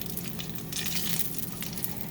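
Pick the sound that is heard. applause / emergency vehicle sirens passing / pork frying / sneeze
pork frying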